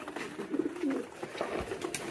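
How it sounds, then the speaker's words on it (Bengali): Domestic pigeons in a crowded loft cooing, with soft, throaty calls that swell and fade twice up close over a quiet background. "কবুতর আমাদের অনেক বেশি হয়ে গেছে আলহামদুলিল্লাহ"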